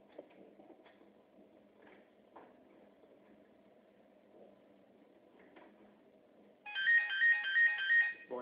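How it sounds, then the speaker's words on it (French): A telephone ringtone starts near the end, a loud bright repeating electronic trill that cuts in over faint low background noise and keeps ringing in even pulses. "il y a encore le téléphone qui sonne"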